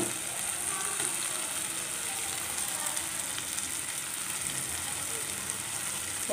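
Chicken pieces frying with kadam leaves in a pan, giving a steady, even sizzle throughout at moderate loudness, with faint scraping underneath.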